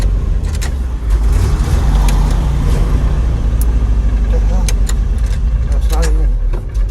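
An old three-ton grain and gravel truck idles with a steady, loud low engine rumble throughout, with light metallic rattles on top and voices talking nearby.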